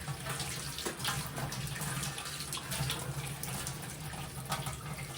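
Water runs from a tap during a morning face wash, a steady close splashing stream that carries on evenly throughout with no voices.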